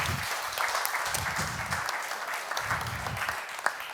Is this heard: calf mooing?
no